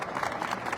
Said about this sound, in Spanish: quisiera pedirles un aplauso para él